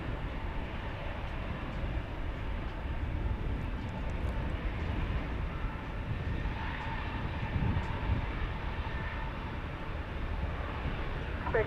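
An American Airlines jet takes off from runway 18 left at DFW, giving a steady, broad engine roar that fills the whole span at a constant level, slightly distant, with no voices.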